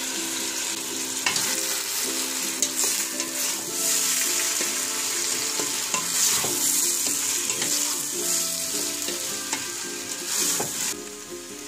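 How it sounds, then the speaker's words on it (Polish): Lentils fry in a pot for Turkish lentil soup, a loud continuous sizzle with stirring scrapes, close and without speech, over background music. "Znowu wszystko mieszamy i chwilę smażymy."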